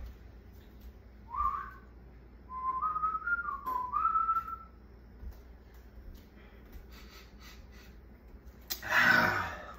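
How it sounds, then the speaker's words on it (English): A person whistles a short rising two-note call, then a longer wavering whistled phrase, followed by quiet room noise and a brief burst of rustling near the end. "the dog heard my little whistle"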